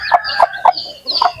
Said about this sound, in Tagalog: Yung inahin lang kusa bumababa sa mga sisiw niya mga idol.